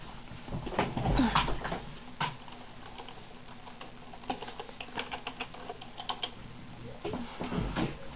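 Computer keyboard typing during a Minecraft session, with scattered clicky keystrokes in short irregular bursts, some louder clusters near the start and end, faint background hum and no talking.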